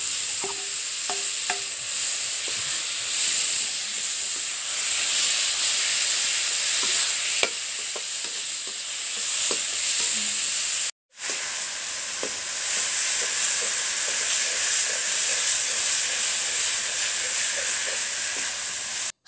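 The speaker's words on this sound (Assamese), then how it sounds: "এতিয়া মই এই শাকখিনি দি দিম তেলতে এইখিনি ধুনীয়াকৈ লৰাই ল'ম" Leafy greens stir-fry in hot oil with turmeric in a village kitchen. A steady, close sizzle continues throughout, with occasional scraping and stirring clicks and one brief dropout.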